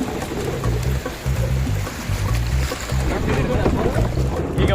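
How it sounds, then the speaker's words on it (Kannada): A boat on an amusement park water ride at Adventure Island in Delhi is pushed along by rushing water, with loud, steady wash and splashing throughout and a low engine-like hum underneath, while people talk over it. "ಅಲ್ಲಿ ವಾಟರ್ ಹೋಗ್ತಿದೆಲ್ಲ ಆ ಫೋರ್ಸ್ಗೆ ನಮ್ಮ ಬೋಟ್ ಹೋಗ್ತಿದೆ"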